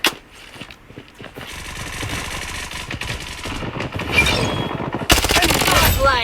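Guns fire in the shooter game Blood Strike in dense, rapid bursts of loud shots that build toward a sharp, intense volley near the end, with a voice briefly mixed in.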